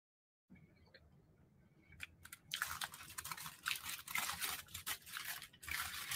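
A woman eats two pizzas and fries, with close, faint crunching and chewing bites and rustling in irregular bursts, the quiet opening giving way to busier mouth sounds.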